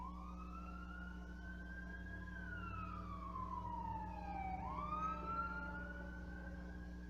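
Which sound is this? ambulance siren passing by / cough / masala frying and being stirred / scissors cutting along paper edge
ambulance siren passing by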